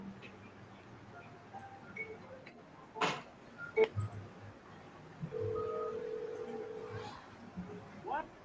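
Telephone dialing during a call-back attempt, scattered electronic tones and a sustained tone over a quiet room with faint background sounds, no voices.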